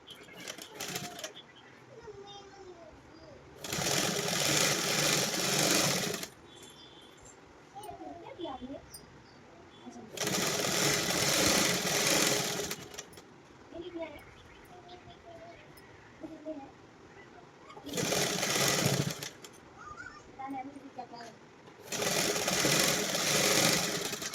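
A sewing machine stitches fabric in four separate bursts of loud, rapid whirring, with quieter pauses between them and a voice speaking during the gaps.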